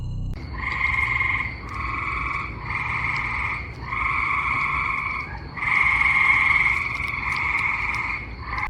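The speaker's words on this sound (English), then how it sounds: "most viewers insisted it was just tree frogs calling from ponds nearby" A chorus of tree frogs calls at night from nearby ponds in steady repeating bursts, each a buzzy pulsed trill, loud and continuous with no voices.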